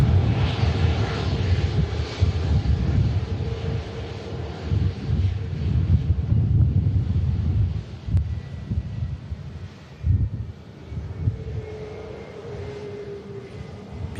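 An EasyJet Airbus A320neo airliner at Manchester Airport gives a steady, broad engine roar from middle distance, with wind buffeting the microphone and no talking.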